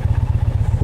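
A 2020 Indian Challenger Limited motorcycle rumbles with its exhaust valve open, a deep, fast, even low-pitched pulsing burble from the pipes, close by and loud in a brief burst with no voices.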